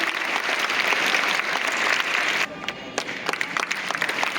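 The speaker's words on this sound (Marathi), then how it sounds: "टाळ्या वाजवा ऋतुजासाठी" A crowd applauds for a prize winner at a handwriting competition prize-giving, with dense, steady clapping that thins briefly midway and then continues with sharper individual claps.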